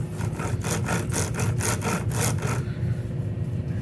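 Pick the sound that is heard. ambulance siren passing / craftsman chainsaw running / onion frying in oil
craftsman chainsaw running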